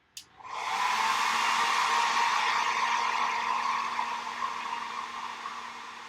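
A hair dryer switches on after a brief click and runs in a steady, loud whooshing roar for several seconds while drying a drawing, with no one speaking.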